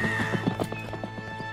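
A cartoon horse trots with a quick rhythmic clip-clop of hooves, and a whinny is mixed in under music. The sound is brief and close.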